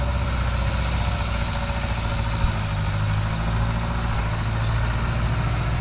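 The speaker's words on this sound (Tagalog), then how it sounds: "mayroong truck, nagha-harvest yan sila guys." A truck engine idles near a harvest field with a steady, loud, close low rumble that never changes over several seconds, and no one speaks.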